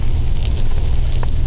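A forest fire in Estonia crackles and roars loudly and steadily, a dense rushing low rumble with faint pops, close and unbroken for a short moment.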